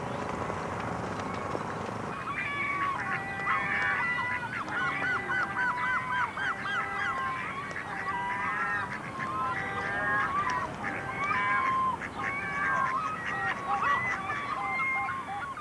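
Ducks and drakes at a park pond in St Stephen's Green call continuously, a busy overlapping chorus of honking and quacking waterfowl amid steady outdoor background noise.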